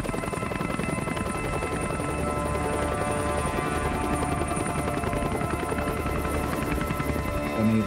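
Two military helicopters flying at dusk over a coastline, a steady loud rotor drone with fast blade chop that holds throughout without a break and no voices.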